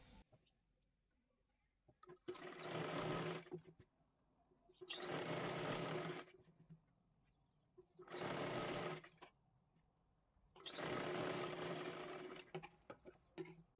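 A sewing machine stitches a 40-size katori blouse in four separate bursts of steady, fast mechanical whirring, each a second or two long, with quiet pauses and small clicks between them.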